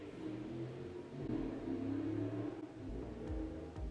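Race cars revving in a nearby backyard race, a faint distant engine drone rising and falling with occasional revving surges, heard alone without talk.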